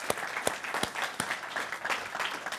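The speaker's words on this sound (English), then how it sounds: "Hannah, also an applause for you." Applause for a contestant at a university challenge grand final: a short burst of scattered, fairly close hand clapping with distinct individual claps, heard on its own without talk.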